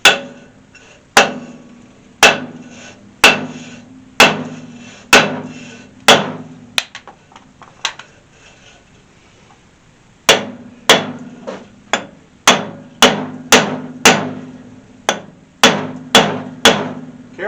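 Hammer blows ring out against a brake drum on a 1964 Ford Falcon, about a dozen sharp metallic strikes in a steady rhythm, a short pause, then another quicker series, loud and close with no talking.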